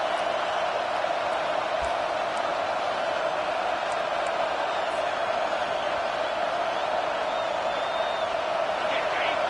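The home crowd at a Penn State versus Texas college football game roars steadily and continuously through a third-down defensive stand, a dense, distant wall of stadium noise.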